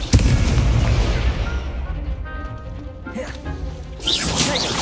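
Confringo blasting-spell explosions in the Hogwarts Legacy video game: a sharp, loud blast at the start, then a dense rumbling battle bed with further bursts later. Speech accompanies it.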